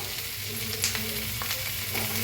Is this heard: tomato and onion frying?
yes